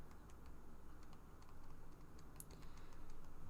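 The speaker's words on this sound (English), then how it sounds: "all I'm doing is I'm actually typing in the algebraic expression exactly as it is" Keys clack in quick irregular taps on a computer keyboard while an algebraic expression is entered, faint and close over a steady low background hum.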